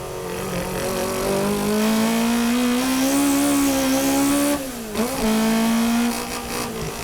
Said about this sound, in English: Tsuchiya, running without a GT wing, has been sliding his rear tires a lot, causing significant tire wear